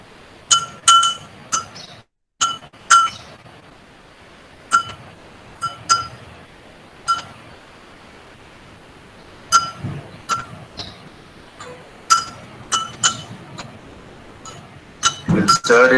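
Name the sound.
spoon stirring salt into a glass of water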